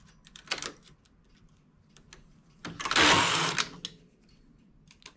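Domestic knitting machine carriage knitting rib stitches for a ribbed cap: a few faint mechanical clicks, then one loud rasping, clattering sweep of the carriage lasting about a second, close, with no talk.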